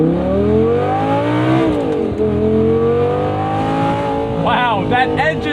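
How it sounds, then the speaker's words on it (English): A 2011 Audi R8 V10 Spyder with a gated manual, its V10 shared with Lamborghini, revs loudly up and down through several rising and falling sweeps, with faint chirps near the end. "Wow, that engine is the centerpiece. Shared with Lambo."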